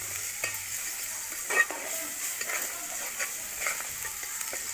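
Homemade masala paste of ground coconut and onion roasts in a pan, a soft steady sizzle with occasional scraping stirs from a spatula, alone and fairly quiet.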